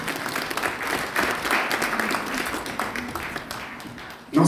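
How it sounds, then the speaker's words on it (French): An audience at an awards evening in Brussels gives a round of applause. The clapping is steady and moderately loud, with a sharper sound right at the end. "Encore une fois, sous vos applaudissements,"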